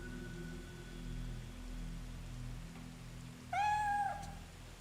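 A cat in the video game Fatal Frame 3 lets out one clear meow near the end, following a stretch of quiet ambient hum and soft rain-like noise.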